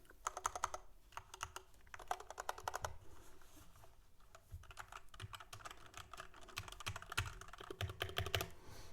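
Typing on a mechanical computer keyboard, a good-quality full-size board, heard as fast clattering bursts of crisp key clicks in uneven runs with short pauses, close and alone.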